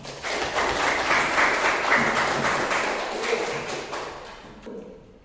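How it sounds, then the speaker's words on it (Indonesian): An audience clapping together in a steady burst that holds for several seconds, then thins and fades out toward the end. "Tepuk tangan untuk kita semua."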